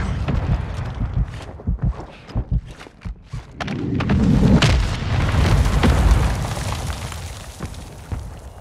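A Semtex grenade explodes in Call of Duty: Modern Warfare II with a heavy rolling boom. Scattered gunfire pops and thuds come before it, and a rumbling tail follows.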